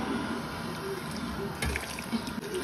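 Water poured into a kitchen container to soak tamarind in hot water, a steady faint splashing rush that runs throughout with no voices.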